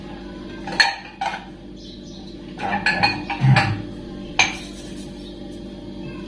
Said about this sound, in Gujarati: વાસણ ધોઉં છું પહેલાં